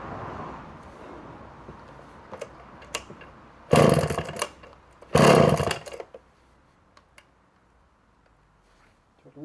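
A vintage Danarm Frontier 5R Auto 55 MK3 54cc chainsaw fires in two loud, brief revving bursts and then falls quiet, with faint handling sounds and clicks between the bursts.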